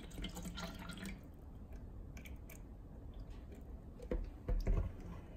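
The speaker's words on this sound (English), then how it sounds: "Let's pour some water in." SmartWater Alkaline bottled water is poured in a quiet room, giving a soft, close trickle with a few splashy drips and gurgles toward the end.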